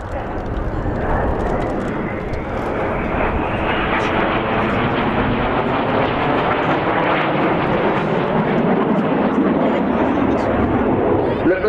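Red Arrows jets in the vertical break at an air display, a loud sustained jet roar that swells and sweeps as the aircraft pull apart overhead, filling the sky for the whole stretch.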